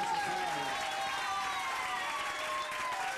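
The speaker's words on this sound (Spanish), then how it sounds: "Aplaudir con ganas, ¿no?" An audience claps loudly and steadily throughout at a hypnosis show, as a dense wash of applause.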